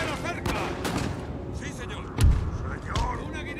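Musket volleys ring out in the Napoleonic strategy game Total War: Napoleon as several sharp reports crack in quick succession. A voice talks over the battle noise, and shouted in-game battle calls can also be heard.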